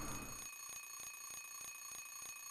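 An alarm clock in the video game Silent Hill 3 rings with a steady, rapid electronic beeping, repeating evenly and loudly over a constant background hum.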